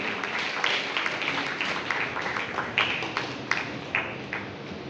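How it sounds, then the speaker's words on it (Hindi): A crowd at a school ceremony in Dhamtari claps loudly and continuously to honour a local doctor, with sharper individual claps standing out against a steady wash of applause. "आप सभी जोरदार तालियों से इसके सहभागी बने।"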